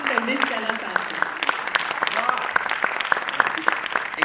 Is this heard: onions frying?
no